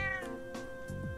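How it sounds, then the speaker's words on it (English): A cat meows in the RPG Trails of Cold Steel, a few short drawn-out mews over a steady background music drone, close and clear with no talking. "Cat? I don't want to talk to the cat."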